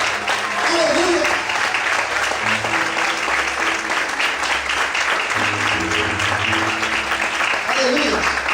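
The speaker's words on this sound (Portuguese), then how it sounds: "Aplaude o Senhor, adora Ele nessa noite" A church congregation applauds during an evening worship service, a dense, sustained roar of clapping that fills the room for several seconds, with voices speaking over it.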